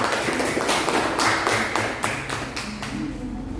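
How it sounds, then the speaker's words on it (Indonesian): Students in a classroom clap for a presenting student group, a fairly loud patter of hand claps with a few sharper, distinct claps standing out, continuing for several seconds with no talking. "Beri tepuk tangan untuk kelompok jeruk."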